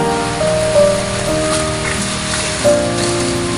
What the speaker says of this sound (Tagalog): medyo lumakas na ang ulan